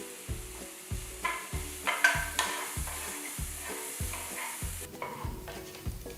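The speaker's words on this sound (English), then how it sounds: "The onions have sauteed well." Chopped onion, garlic, ginger and green chilies fry softly in oil under steady rhythmic stirring, a regular knocking of the spoon against the pan over a faint sizzle.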